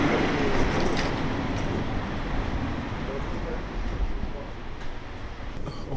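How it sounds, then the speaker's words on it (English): A train pulls into a station with a steady, broad rumble and rolling noise that holds for several seconds, and faint clanks sit over the roar. "Train should be here right about now."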